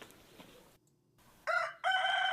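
A rooster crows loudly and close in two strong bursts near the end, after quieter background noise and a brief silence.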